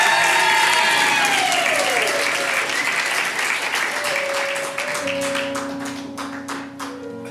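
A crowd applauds and cheers for Ruby Rocket, dense and steady throughout. In the later seconds the clapping thins into more distinct individual claps, with a sustained tone beneath it.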